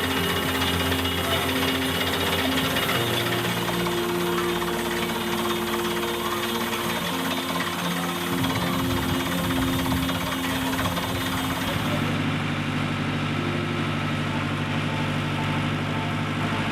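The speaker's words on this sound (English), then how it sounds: "they've mounted a air rotary rig on a agricultural tractor, a full scale air rotary rig" A full-scale air rotary drilling rig mounted on an agricultural tractor runs steadily with a loud, continuous engine drone and hammering rattle throughout, its tone shifting slightly partway through, with no voices.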